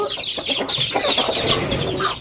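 Chickens and ducks at a farm make a dense, continuous chorus of clucking and squawking, fairly close and steady throughout, with no talk.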